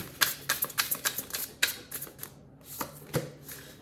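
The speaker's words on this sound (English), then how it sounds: "just gonna shuffle them." Rapid papery riffles and soft taps of tarot cards being shuffled close by, in quick irregular bursts with a brief pause midway.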